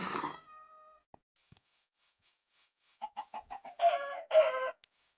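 A Minecraft chicken clucks in the video game, first a few short clicks and then a quick run of separate clucks ending in two fuller, louder squawks, clear against near silence.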